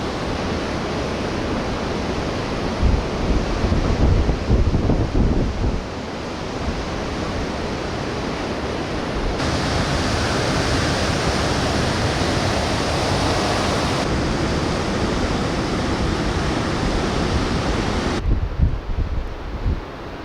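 Surf from the Southern Ocean washes onto South Cape Beach in Tasmania, a loud continuous roar of breaking waves mixed with wind buffeting, swelling and easing across the stretch.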